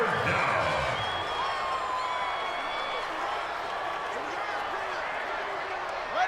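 Stadium crowd in a Madden 20 simulation of Washington at the Cowboys roars as a steady, loud, dense wash of cheering and noise, mixed under a commentator's voice.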